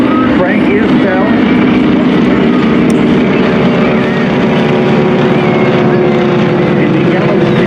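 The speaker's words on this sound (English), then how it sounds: "You'll hear that propeller change pitch a little bit." A yellow Stearman biplane with a 450-horsepower engine flies at an airshow, its loud propeller drone holding steady with subtle shifts in pitch, while an announcer talks over it throughout.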